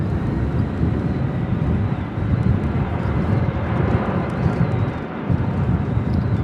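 A Qatar Airways Boeing 787 Dreamliner departing Manchester Airport for Doha in stormy, windy weather, a steady broadband jet roar with wind rumble, loud and continuous throughout without speech.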